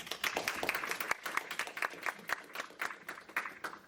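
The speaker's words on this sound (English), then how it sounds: "Let's give him a round of applause." Scattered hand clapping from a small audience at a talk on image denoising with autoencoders, a quick run of distinct, fairly faint claps in an irregular rhythm that carries on for several seconds without voices.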